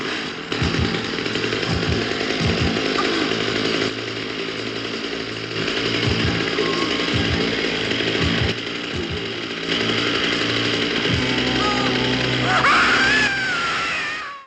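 A chainsaw runs continuously in the horror film Pieces, a loud rough buzzing roar with revving pulses throughout, and a high scream rising near the end.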